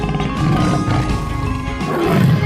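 A tiger roars in a 3D animal sliding video game, a loud, continuous, gritty roar blended into busy game audio with a steady tonal layer underneath, no voices present.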